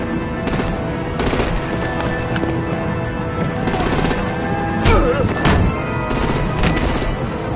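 Artillery and gunfire in the Batman: The Enemy Within video game crack out in loud, rapid bursts over a dense, roaring battle din, clustering in volleys throughout.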